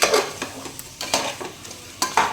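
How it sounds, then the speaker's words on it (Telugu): Mutton biryani masala stirred in a pressure cooker, with several distinct scraping strokes of a spoon against the pot at an uneven rhythm over a soft background sizzle. "అన్నీ బాగా కలుపుకోవాలి"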